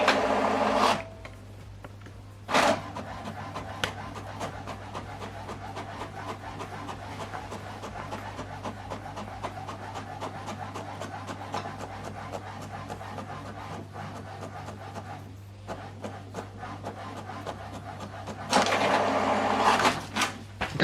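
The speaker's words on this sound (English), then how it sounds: "So now printing this document page 2 and 3." A laptop-driven printer runs through document pages, giving a steady mechanical whir and shuffle with faint rhythmic clicks, framed by louder rustling bursts at the start and end.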